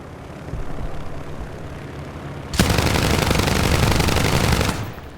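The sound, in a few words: A36 aircraft firing guns in War Thunder video game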